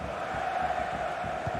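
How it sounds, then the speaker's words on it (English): A stadium crowd in a FIFA 23 football match roars as a continuous, steady wash of distant cheering and chanting, with no voices standing out. "just listen to this crowd"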